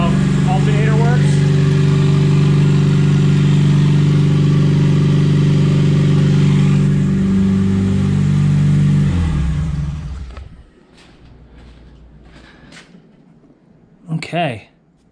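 A Honda K24 engine swapped into a Porsche 996 fires for the first time and revs hard, a loud, steady droning roar that cuts off abruptly near the end, leaving quiet handling noises and a brief rising whine.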